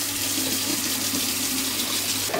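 Hot water pours steadily over 400 grams of rice during home meal-prep cooking, a continuous loud splashing rush that ends with a brief clatter.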